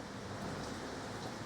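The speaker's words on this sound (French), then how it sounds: "je crois qu'on peut dire qu'il pleut" Steady rain falls on a sailing boat during a sudden, heavy shower, a quiet, even hiss with no voices over it.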